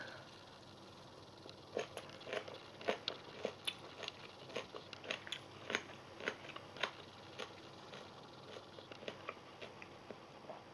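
Close, crisp crunching as food is chewed at a Thai festival in Tokyo, irregular bites and crackles repeating over several seconds with quiet gaps between.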